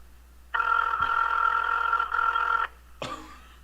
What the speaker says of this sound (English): I like how this ringtone sounds like someone throwing up.